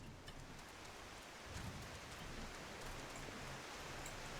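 Steady, dense rush of falling water from a waterfall in the video game Final Fantasy XIV, an even hiss with no pauses, heard alone without talk.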